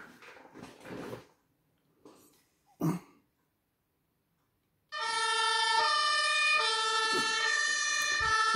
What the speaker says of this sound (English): And then we'll turn our siren on.